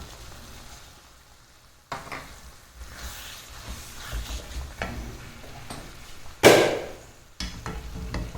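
Narthangai pachadi with jaggery being stirred in a pan on the stove, a low steady sizzle with soft scraping strokes and one louder clatter near the end, no talking.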